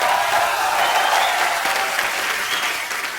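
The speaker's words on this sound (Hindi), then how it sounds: "अक्षय बाजी के लिए जोरदार तालियां हो जाए एक बार।" Loud, sustained applause from a studio audience on a comedy talk show, a steady dense wash of clapping with faint crowd noise that holds throughout and eases slightly at the end.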